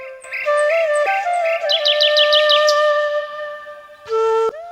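Baya weaver birds chirp near their woven hanging nests in Vellore during the monsoon, with bright, quick repeated tweets and bursts over steady, tonal background sound, then a short louder call near the end.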